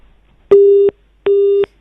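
A telephone line gives two steady, loud electronic beeps of equal length after the caller hangs up, separated by a short gap, with no voices.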